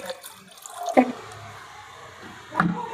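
Soft running water with a couple of brief splashy pours and drips as about 600 ml of water is poured into a pot for gulab jamun syrup, quiet and close, with no talking.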